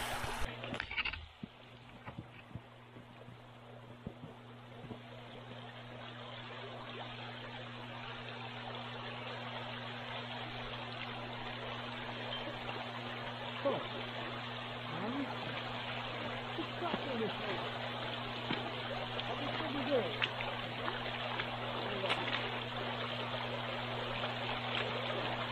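Shallow river water in cold Canadian wilderness splashes and trickles steadily as someone wades across, a close, continuous wash over a low steady hum, with sparse speech.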